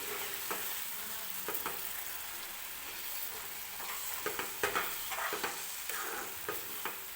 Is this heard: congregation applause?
no